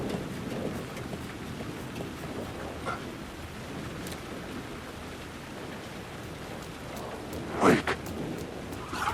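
Steady rain falls in Alan Wake 2, a soft continuous hiss with faint low rumbling underneath and a brief louder splash or knock near the end.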